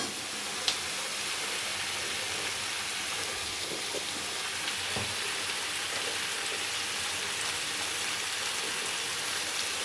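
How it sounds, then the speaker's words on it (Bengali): Chicken fries in a pan, giving an even, continuous sizzle like light rain that holds steady throughout, with a faint click near the start. "ভাজা হচ্ছে চিকেন।"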